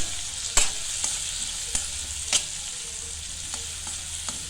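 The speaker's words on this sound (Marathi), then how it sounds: "आता परतवून घेऊया ना कांदा" Onion and turmeric sauté in a pan with a steady, close sizzle, broken by a few sharp scrapes and clicks of a spoon stirring at irregular moments; no one talks.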